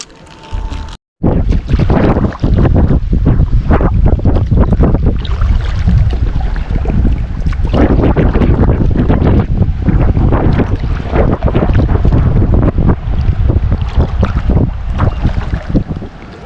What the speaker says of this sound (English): the wind is blowing pretty hard. And it's blowing against us and we're going downstream